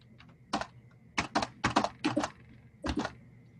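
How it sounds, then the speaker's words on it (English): Computer keyboard keys tapped in short clustered bursts while numbers go into a spreadsheet, about five quick groups of clicks with brief pauses between them, close and fairly clear over a faint steady hum. "So I'm just going to type in the numbers"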